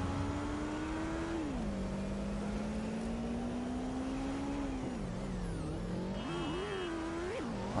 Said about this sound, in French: le moteur s'énerve